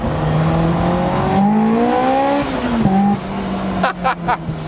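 A Honda S2000 engine revs and accelerates close up, its tone rising steadily through the gears, then ends with a few sharp short blips.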